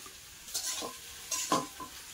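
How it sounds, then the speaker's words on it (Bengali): Panch phoron whole spices fry in hot oil with a faint sizzle, broken by a few scraping stirs of a spoon in the pan. "পাঁচফোড়ন তো ভাজা ভাজা হয়ে গিয়েছে"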